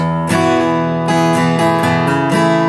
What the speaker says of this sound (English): hammer on with his index fingers, with his middle finger, so it sounds like this.